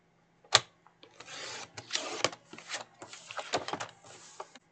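Planner paper from a dollar store is cut to size, a sharp click followed by a series of rasping, scraping cutting strokes in short bursts, close and quiet with no talking.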